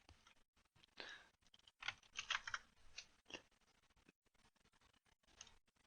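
Keys clatter on a computer keyboard in a few short, quiet bursts of close typing, separated by brief gaps.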